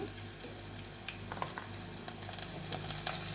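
Onion, ginger-garlic paste and turmeric fry in a pan with a steady, close sizzle, lightly stirred throughout and without any talking.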